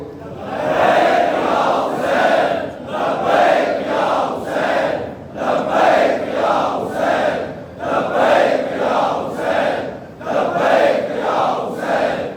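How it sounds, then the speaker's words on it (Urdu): A large religious gathering chants the slogan Labbaik ya Hussain in unison, loud rhythmic repeated shouts in regular pulses about every second and a half, sustained throughout. "ذرا اونچی آواز سے لبیک یا حسین کے نعرے سے جواب دے"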